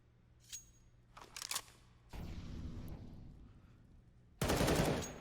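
Gunfire from a Counter-Strike match between Nexus Gaming and Winstrike: a couple of short distant shots, then a sustained burst of rattling fire, and a loud close volley near the end, with no talk.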